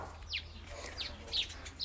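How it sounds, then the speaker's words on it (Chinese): Small birds chirp outdoors at a family home, giving several short bright tweets spaced across the moment over a low steady background hum. "来看小鸟叽叽喳喳的"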